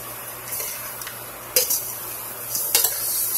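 Pheasant meat being stirred in a cooking pot gives a few sharp scraping clinks of utensil against the pot over a soft sizzling hiss, with brief louder strokes near the end.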